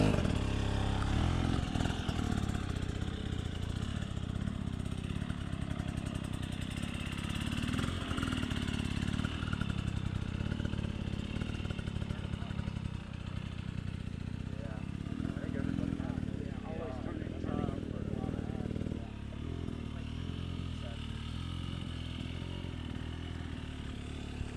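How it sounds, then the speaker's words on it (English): A dirt bike engine idles and rises and falls as the rider works the throttle and controls at an off-road riding skills clinic, a steady close drone under continuous talk. "The engine note changing a little bit, so I am working the controls,"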